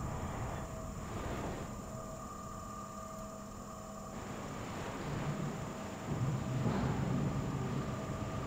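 The Deeprun tram in World of Warcraft rolling along, a faint steady rumble and hum that swells slightly toward the end, with no voices.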